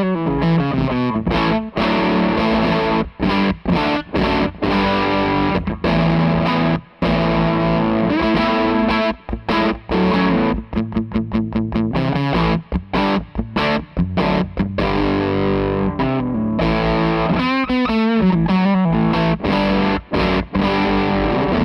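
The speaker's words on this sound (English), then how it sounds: "That's a huge fuzz, but it's not high gain." Electric guitar through a Pierrot Pedals Pug Fuzz pedal plays a chunky riff of chords and short stabs, thick and saturated, with brief gaps between phrases.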